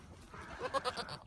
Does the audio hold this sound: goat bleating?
yes